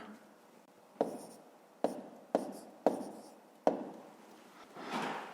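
A fraction being written down for a fifth-grade maths exercise, five sharp taps or strokes spaced about a second apart, each trailing off quickly, then a softer rubbing sound, close and quiet, with no voices.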